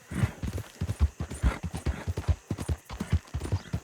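Horse hooves clip-clop in a steady rhythmic gait in Red Dead Redemption 2, loud and close, running continuously with no voices over it.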